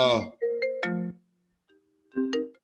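A phone ringtone for an incoming call plays as a short melodic sequence of clear tones, pausing briefly before another burst, loud and close.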